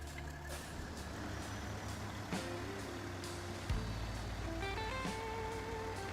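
A Kenworth truck in the SnowRunner video game drives with a steady low diesel engine drone, with a sharp air-brake hiss midway followed by rising gear-shift tones, loud and continuous without talk.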